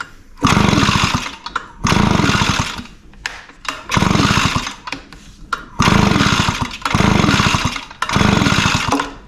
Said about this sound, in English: I'm going to pull the handle through, and we're going to see if this one will spark.